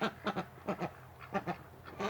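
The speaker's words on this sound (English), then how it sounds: "they have a different sounding quack than the ducks do" Domestic ducks and drakes quack nearby in short clustered bursts of two or three calls, separated by brief pauses, with no voices over them.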